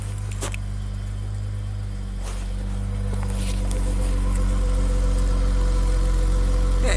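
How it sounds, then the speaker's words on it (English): A deep, steady V6 exhaust of a 2011 Chrysler 300 Limited idles close by, a low rumbling drone that swells slightly toward the end, with faint clinks on top. "That exhaust note is nice."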